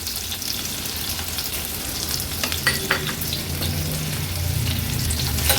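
Onion and garlic fry in oil as a loud, close, continuous sizzle with some stirring scrapes partway through, steady to the end and with no talking.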